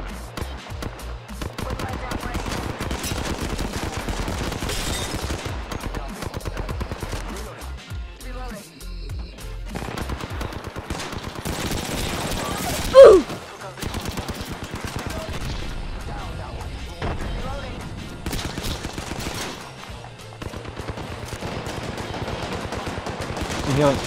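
Rapid bursts of Spitfire light machine gun fire in Apex Legends, sustained volleys with brief gaps and one sharp louder crack midway, heard under excited player voice chat.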